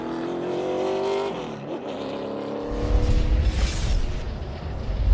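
NASCAR Xfinity Series race cars at Phoenix Raceway, engines droning loudly and then swelling into a booming roar as the pack storms past close by, with no speech.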